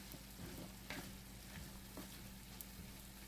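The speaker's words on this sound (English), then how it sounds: "we're just gonna like cook it down till we sweat these onions and green peppers down" Onions and green peppers sizzling in a pan as they cook down, a quiet continuous frying crackle with a low steady hum beneath and a few soft stirring taps.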